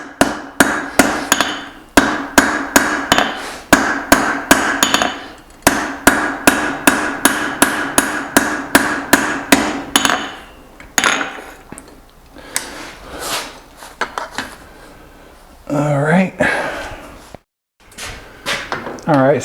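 Rapid, evenly spaced hammer blows ring out close and loud while forging a small 8 oz hammer head, steady strikes over the first half, then scattered knocks and some speech toward the end.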